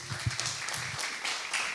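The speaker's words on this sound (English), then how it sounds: "if you guys will give a great big hand of applause for Taylor Kovar" An audience claps for Taylor Kovar at a Junior Achievement student stock market challenge event, a soft, steady patter of applause that holds for a couple of seconds.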